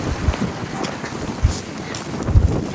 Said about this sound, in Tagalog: salubong, saka lumalakas ang hangin